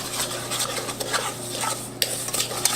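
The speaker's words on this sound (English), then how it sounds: "I'm going to add my olive oil to that, and I'm going to slowly stir it" Olive oil is slowly stirred into seasoning in a bowl for a cilantro lime chicken marinade, making soft scraping and clinking of a utensil against the dish, with a sharper knock near the end and no talk.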